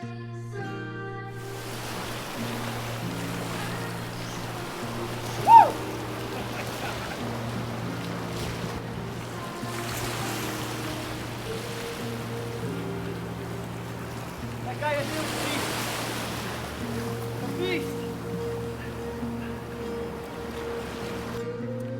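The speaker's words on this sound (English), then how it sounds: "the ocean was wild" Wild ocean waves surge along the Galicia coast in Spain, with broad washes of surf rising and falling under steady wind noise and a low constant hum.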